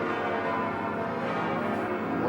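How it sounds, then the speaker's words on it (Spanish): Notre Dame cathedral bells in Paris, a dense, sustained wash of ringing tones that overlap continuously, steady and fairly loud with no voices. "A Notre Dame también le hemos escuchado, sus campanas repicando."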